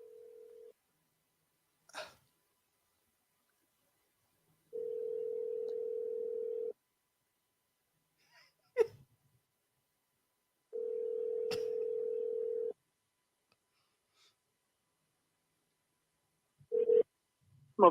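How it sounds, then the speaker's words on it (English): A phone rings on an outgoing call, with repeated steady ringback tones separated by long gaps of silence, interrupted by a few sharp clicks and brief handling noises. "I'm letting it ring."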